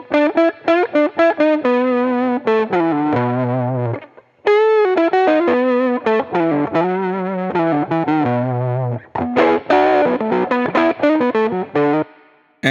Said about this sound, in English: let's start with 10 dB of distortion. And to make a darker distortion in this case